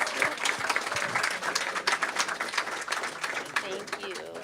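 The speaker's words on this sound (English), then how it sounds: "Yes, another round of applause." Audience at a church gathering on Kauai gives a lively round of applause, individual claps close and distinct, with cheerful voices and talk mixed in throughout.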